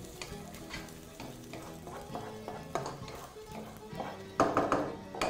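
Julienned carrots and celery stirred through a hot frying pan with onions, a utensil scraping and tossing the vegetables in repeated strokes over a soft sizzle, with a louder clatter of stirring near the end.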